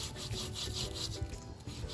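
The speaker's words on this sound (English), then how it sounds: "Just a sawing kind of action with the knife, and then you get a really nice piece." Knife sawing back and forth through layered tandoori chicken tikka shawarma, a rhythmic rasping scrape repeating several times in quick strokes, close and clear with no talking.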